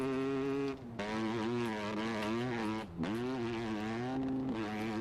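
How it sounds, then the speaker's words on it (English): Video-game car engine running with a buzzy, flatulent drone, pitch wavering up and down and cutting out briefly twice before resuming, loud and steady with no voices. "This engine sounds like diarrhea."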